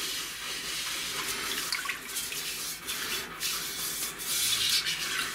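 Etalon roasting pan scrubbed on a stovetop with an ordinary kitchen brush and water, a steady close rubbing hiss with watery splashes.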